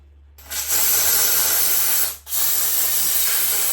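A Dupray steam cleaner blasts steam onto an AGA oven in two loud, close bursts of steady hissing spray. A brief pause separates them.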